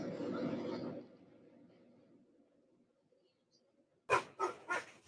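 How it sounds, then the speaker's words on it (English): Short, loud puppy yelps or whimpering barks, three quick bursts in a row, following narrated speech in an audio drama; the dog sounds are close and stand alone after a pause. "puppy's not happy."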